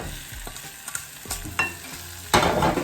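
Dried dal being stirred into a hot pan for dal puri: a spoon scrapes and taps against the pan in irregular strokes over a soft sizzle, ending in a louder burst of scraping and frying.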